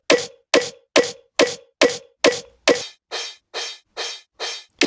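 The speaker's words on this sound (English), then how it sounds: "Without the crash, the snare sounds like this." Eleven sharp snare drum hits from a sample made in FL Studio in a steady, even rhythm, each decaying quickly; the last several sound brighter and noisier, with no cymbal wash.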